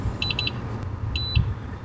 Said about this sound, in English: that little beep indicates that it actually communicated with the VCI